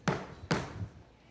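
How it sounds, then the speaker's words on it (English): Two sharp foot stomps on a stage floor, about half a second apart, each a solid low thud with a short decay; nothing else sounds. "So I'm going to stomp my foot 2 times"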